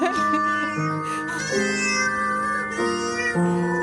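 A novelty cat organ plays a short tune built from pitched cat meows, the tonal notes shifting steps up and down in a steady melodic run, loud and close with no talking.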